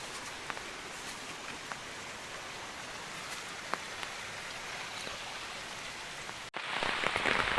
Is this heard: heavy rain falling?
yes